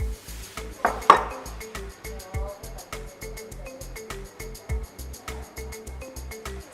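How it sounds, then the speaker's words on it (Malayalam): Chocolate cake batter gets whisked in a bowl, a fast, even rhythm of close metallic ticks and taps against the bowl, repeating about four times a second, with a couple of louder clanks early on. "മിക്സ് ചെയ്യാൻ വേണ്ടിയിട്ട് നമുക്ക് വിസ്ക് തന്നെ യൂസ് ചെയ്യാം"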